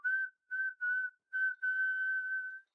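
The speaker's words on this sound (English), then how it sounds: "Should I whistle?" A person whistles a simple tune of five clear notes, four short bursts followed by one long held tone, close and alone with no talk.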